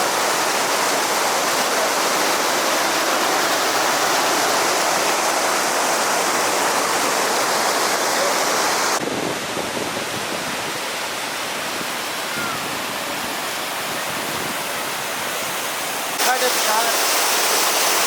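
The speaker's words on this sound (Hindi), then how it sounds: "ये जलखट आबशार के पानी का व्यू" Jalkhat waterfall near Naran, with water plunging from high up, gives a loud, steady roar of rushing water that fills the whole clip and dips slightly in level partway through.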